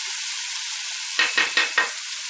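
Stuffed mushrooms hiss in a pan while the alcohol cooks off, a soft steady sizzle broken by four quick scraping stirs near the end.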